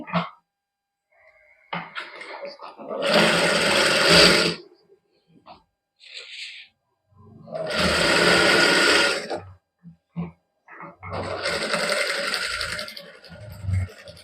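Sewing machine running in a boutique as it stitches the side seam of a garment, in three sustained whirring runs separated by short pauses, with small handling sounds and light voice in between.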